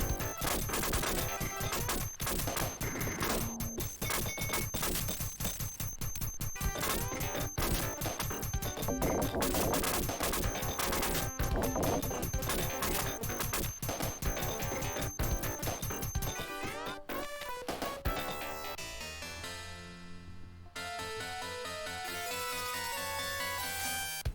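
Retro Sega Genesis game action with boxes being shot and smashed, a dense run of crashing impacts and blasts over game music that stays loud throughout, then shifts to a sparser tonal passage near the end.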